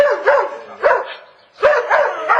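A dog barks close by in three quick bursts, each a short cluster of yips, separated by brief pauses, loud and clear with no voices over it.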